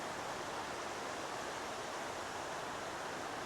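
A waterfall runs after recent rain, a steady, full broadband rush of falling and flowing water that stays even and constant throughout with no voices.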